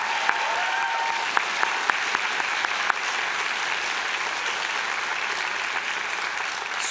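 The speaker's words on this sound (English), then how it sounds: "How about another round of applause for the Spirit Vision drummers and dancers?" A hall full of students and guests at a fall convocation claps for the Spirit Vision drummers and dancers, a broad, even round of applause that holds steady without talk.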